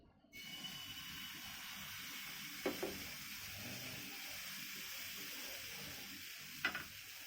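Batter sizzles in a lightly oiled pan, a quiet steady hiss close by, broken by two brief scraping clicks.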